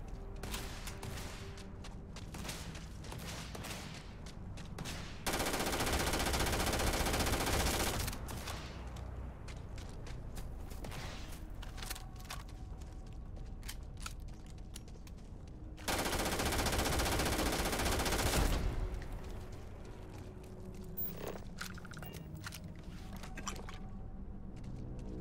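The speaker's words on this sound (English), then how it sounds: "I like this gun because it just keeps them running away." Sustained bursts of rapid gunfire from a weapon in the space game Starfield, two long loud volleys a few seconds each, separated by quieter game ambience.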